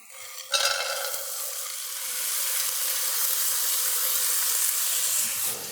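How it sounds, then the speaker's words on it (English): Frozen peas tipped straight from the package into a hot pan: a brief close rattle of pouring, then a steady sizzling hiss that carries on alone to the end. "We're going to put these right in the pan."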